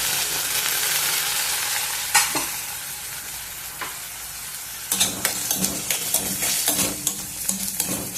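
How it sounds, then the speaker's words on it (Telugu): Onions sautéing on low heat in a pan for a paneer kadai masala curry, a steady sizzle running throughout with several scraping stirs of a spoon against the pan, the stirring clustered in the second half. "మధ్య మధ్యలో కలుపుకుంటా మగ్గనిద్దాము ఉల్లిగడ్డల్ని"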